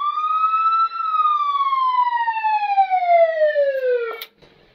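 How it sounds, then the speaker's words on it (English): A classic 4x4 fire truck's siren wails alone, a single long tone sliding slowly downward over several seconds before cutting off abruptly with a brief clunk. "when people won't get out of your way, you turn on the siren."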